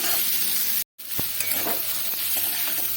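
Ripe pointed gourd pieces fry in a pan with onion and garlic: a close, continuous sizzle with a short silent break early on, followed by a few soft scrapes and knocks as the pan is stirred.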